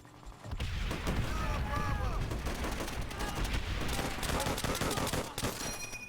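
Dense Call of Duty: World at War gunfire rattles in sustained bursts, with explosions rumbling beneath the battle, loud and continuous throughout, while players talk over the game sound.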